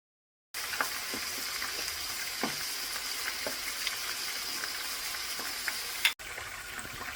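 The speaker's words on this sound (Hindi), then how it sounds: "हमारा तेल जो है ना वो गर्म हो गया है। अब हम चिकन डाल देते हैं।" Chicken pieces frying in hot oil give a steady, close sizzle with small pops and crackles throughout, cut by a brief break near the end.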